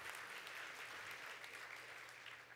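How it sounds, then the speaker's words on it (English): A conference audience applauds the setup crew in a steady, fairly distant wash of clapping that lasts throughout and fades slightly toward the end. "Would you guys give them a nice warm round of applause?"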